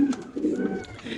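Caged BRPFC racer pigeons give soft, close cooing calls in short bursts, with a faint voice in the background.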